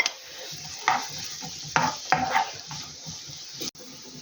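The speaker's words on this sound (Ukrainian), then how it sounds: "Додала так десь 50 мл олії. Отак. І оця цибуля, яку я залишила для засмажки." Onion fries in oil, sizzling steadily in a pan while a utensil stirs and scrapes, with a few sharp clinks against the metal.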